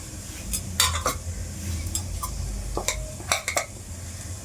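Onions tipped into a cooking pot with a bay leaf for picnic-style chicken, then stirred: scattered metallic clinks and scrapes of a spoon against the pot over a low, steady background, with no one talking.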